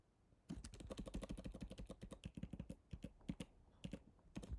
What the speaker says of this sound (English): then we'll start typing the specifications